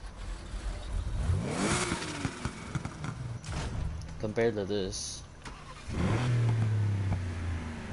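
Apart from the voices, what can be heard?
Porsche car engine revving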